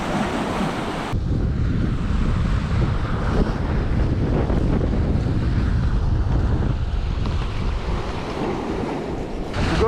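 Rough, churning sea surf and steady gusting wind batter the shoreline during sea bass fishing with a Bolognese float rod, a loud continuous roar with wind buffeting the microphone throughout and no voices.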